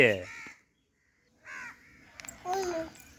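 Scattered crow caws come in short bursts separated by silence, with a louder, longer caw near the end.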